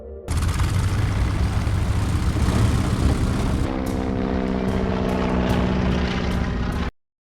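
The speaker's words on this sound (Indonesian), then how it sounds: "kemudian ia pun langsung berangkat menggunakan pesawat" A propeller airplane flies in a loud, steady, continuous drone that fills the whole stretch before cutting off abruptly near the end.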